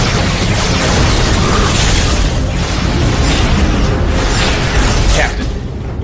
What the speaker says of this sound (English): Open fire! Photonic torpedoes and phase cannons.